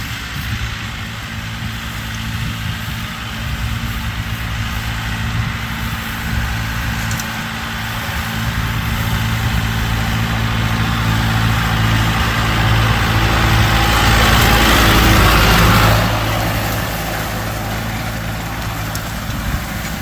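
A hay baler's engine runs in a field during first-cut hay work, a steady low droning rumble that swells slightly toward the middle and stays continuous throughout.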